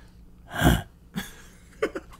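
A voice mimics a bird's cough: one loud, rough burst, then a short sputter and two quick clipped hacks, close and dry.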